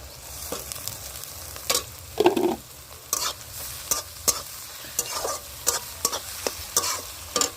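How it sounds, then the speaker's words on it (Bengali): Onions fry in a pan as chopped garlic and ginger go in for a chicken kosha curry, with a spoon scraping and stirring in repeated sharp strokes over a steady close sizzle. "এবার এর মধ্যে দেবো আমি দেখো রসুন আর আদা কুচি।"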